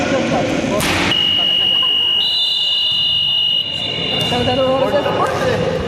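A loud, sustained electronic buzzer at a basketball game blares for a few seconds over an echoing gym full of voices and squeaking shoes.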